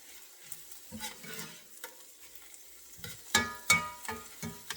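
Green onions sautéing with ground beef in a pan, heard as quiet spatula scrapes and stirring clatter over a low sizzle, with a few sharper knocks near the end.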